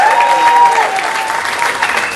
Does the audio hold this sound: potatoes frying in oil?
no